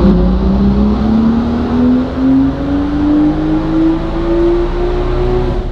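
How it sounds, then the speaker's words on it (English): A loud single-turbo car engine revs steadily, its pitch climbing gradually over several seconds with a smooth, continuous roar and no talking. "This car rip, it sounds great too."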